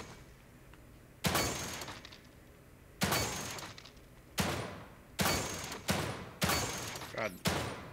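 Gunfire in the survival-horror video game The Evil Within 2: a series of sharp, loud shots, each ringing out and decaying, spaced irregularly about a second apart over faint background ambience.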